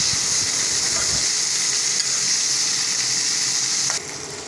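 Chopped tomatoes go into a hot pan of beef karahi gosht, restaurant style, with a loud steady sizzle and hiss of frying throughout, easing slightly near the end.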